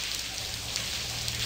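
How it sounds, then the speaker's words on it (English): Steady rain pours in a point-and-click adventure game, a close, even hiss of falling water that continues unbroken throughout. "Hey, let's get out of this rain."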